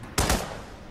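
Gunshots in the Hitman video game, on a Colorado mission: two quick, sharp shots in close succession, loud and near, with a short fading tail.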